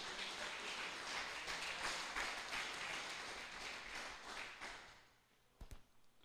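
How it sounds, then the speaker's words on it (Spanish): Church congregation applauding, a dense burst of clapping that fades over several seconds, with a sharp tap near the end. "Denle un aplauso al Señor por la verdad."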